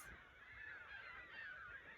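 Faint, continuous calling of seagulls near a shore, wavering squawks blending into a distant flock chorus with steady background noise.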